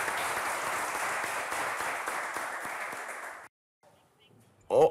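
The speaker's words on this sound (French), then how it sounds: "Merci d'applaudir pour Ricardo," Studio audience applauding on a French TV game show, a dense steady wash of clapping for about three and a half seconds that cuts off abruptly, followed by near silence and a brief burst of sound at the end.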